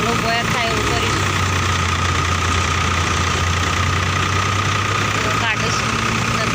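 A tractor engine idles loud and steady during wheat threshing, a constant low drone with a knocking undertone and people talking over it.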